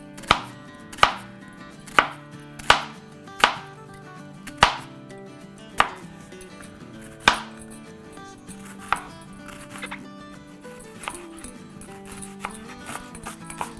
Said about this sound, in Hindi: अच्छा, तो इसको हम ऑमलेट कट काट लेते हैं।